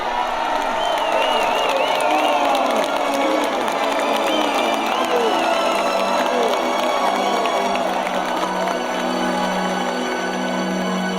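A large crowd of people gathered around a healer, shouting and calling out in a dense, continuous roar of many voices, some higher cries rising above it, loud and sustained throughout.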